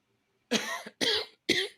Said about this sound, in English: He coughs.